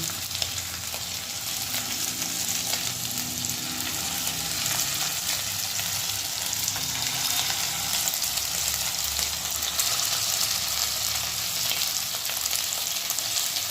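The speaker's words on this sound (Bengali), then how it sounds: "এখানে তেল গরম হচ্ছে এবং এর মধ্যে আমি একটা একটা করে চিকেন দিয়ে ভাজবো" Chicken pieces fry in hot oil, a steady loud sizzle with crackling that runs unbroken and close for the whole stretch, with no talking over it.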